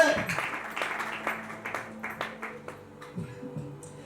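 Church congregation clapping in bursts, uneven rhythmic claps under someone speaking continuously in a reverberant room.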